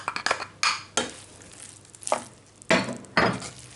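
Chicken stuffing with herbs, olives and preserved lemon is stirred in a bowl, producing a run of close, irregular scrapes and soft clinks from the utensil in short bursts.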